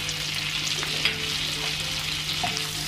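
Kashmiri chili powder and turmeric powder frying in hot oil for paneer butter masala, a steady close sizzle with light stirring scrapes throughout, no talking.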